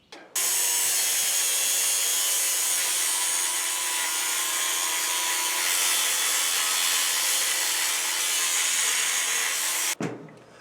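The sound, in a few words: angle grinder cutting steel shipping cage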